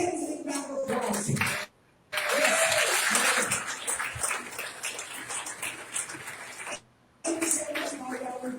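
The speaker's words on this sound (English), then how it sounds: "give Stengels a round of applause" A crowd applauds for a Santa at the School of Santas in Branson, Missouri, a dense steady roar of clapping that breaks off twice briefly and then resumes, with a little talk at the edges.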